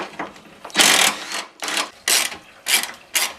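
Bolts and Torx screws being ratcheted out of a Jeep radiator support during radiator replacement, with several bursts of rapid clicking separated by short pauses, close and fairly loud.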